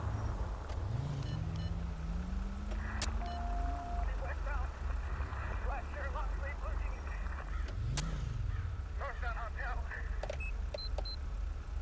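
Cars pass and idle in Grand Theft Auto V traffic, engine hum and rising revs with a few short electronic tones and clicks, a continuous mid-level drone under a steady background.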